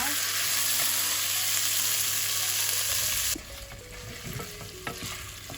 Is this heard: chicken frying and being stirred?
yes